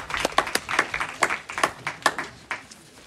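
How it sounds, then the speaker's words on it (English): Small outdoor congregation at an open-air church service claps for children, a thin, uneven patter of a few hands, fairly faint and distant. "Give them a round of applause."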